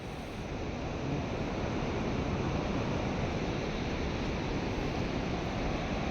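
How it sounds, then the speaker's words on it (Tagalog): Strong waves crash at a beach near the Puerto Princesa Underground River, making a steady, loud broadband roar of surf that fills the whole stretch without a break and with no voices. "napakagandang beach pero ang alon. Halimaw ang alon."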